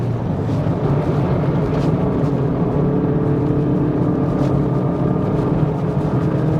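A Hyundai i30N Performance lapping the Queensland Raceway National Circuit, its engine droning steadily and loudly from inside the cabin with a constant whirring hum and no talk.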